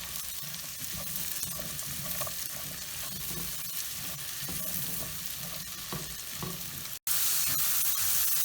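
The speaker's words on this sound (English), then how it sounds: "I want it to be fairly hot because I want to sear these mushrooms" Mushrooms sear hot and fast in sizzling butter in a pan, giving a steady, loud frying crackle with occasional stirring scrapes and a brief cut near the end.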